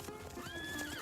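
A horse neighs in one short, clear whinny that rises and wavers, heard up close over a busy, noisy background.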